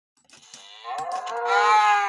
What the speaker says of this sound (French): c'est une vache normale, je crois